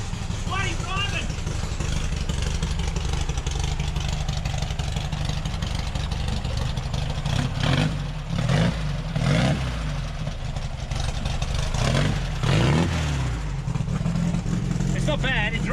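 A Volkswagen Baja's engine runs and revs steadily on a first drive, a loud low-mid drone throughout with a few rising pushes around the middle and near the end, while people talk over it.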